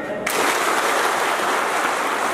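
An audience breaks into loud, dense applause after a short quiet moment, and the clapping continues evenly and close by.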